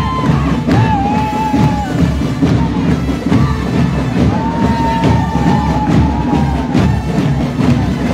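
A crowd cheers and whoops loudly and continuously at a secondary school generations parade in Jojutla, with yells and shouts rising over a dense festive din.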